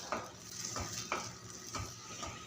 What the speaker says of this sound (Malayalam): ഇളക്കിക്കൊണ്ടിരിക്കണം.